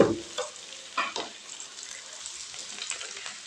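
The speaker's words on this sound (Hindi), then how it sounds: "ये अरबी जो है ना, ये हमारी भुन रही है।" Pieces of taro root and potato fry in oil, a soft crackling sizzle punctuated by a few louder scraping stirs near the start, then settling into a quieter steady hiss with no one speaking.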